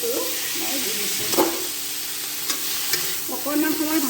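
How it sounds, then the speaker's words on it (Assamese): A spoon steadily stirs banana flower masala with boiled potato and turmeric in a hot pan, giving continuous sizzling and scraping with a few sharper clinks against the pan. "গোটেই বস্তুখিনি ভালকৈ মিক্স হ'বলৈ মই খুব ভালদৰে লৰাই আছোঁ"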